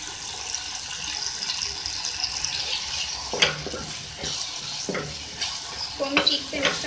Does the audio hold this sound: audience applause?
no